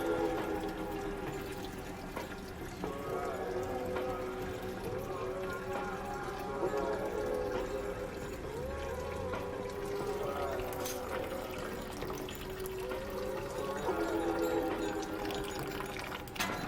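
Liquid steadily draining and trickling from a grain bag during saison brewing, a continuous soft pouring and dribbling that runs throughout, fairly quiet with a faint background hum.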